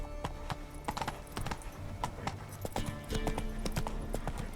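Roach the horse's hooves clip-clop in The Witcher 3, a series of crisp, close hoofbeats in an uneven walking rhythm over a steady ambient bed, with no talking.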